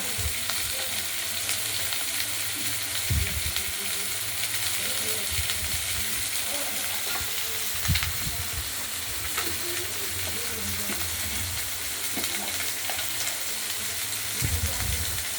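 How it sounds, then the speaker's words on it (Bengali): Drumstick stalks frying in hot oil, a dense continuous sizzle with occasional scraping stirs, loud and close throughout. "ডাঁটাগুলো তেলের মধ্যে দিয়ে দেওয়া হলো, একটু নাড়াচাড়া করেছি।"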